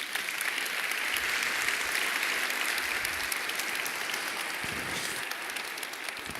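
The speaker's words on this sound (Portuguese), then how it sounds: "E por isso a Ele uma salva de palmas." A church congregation claps together in steady, sustained applause that stays even and fairly close, with no voices on top.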